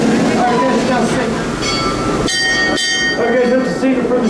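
The Busch Gardens steam train rolls into its station with a loud, continuous rumble of wheels and carriages, passengers' voices mixed in.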